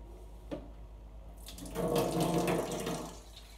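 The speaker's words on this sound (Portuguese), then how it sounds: "Um pouco de água na bandeja." Water poured into a metal oven tray to create steam while roasting meat in a preheated oven, a short running splash that builds after a faint clink and then tapers off, close and alone.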